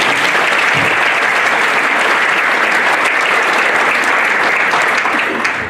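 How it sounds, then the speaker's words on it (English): Steady, loud audience applause fills the whole stretch at a school sports awards ceremony, a dense continuous clapping that barely varies and tapers slightly at the very end. "give them a round of applause"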